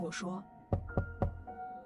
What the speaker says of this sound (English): The knock on the door sounded different again.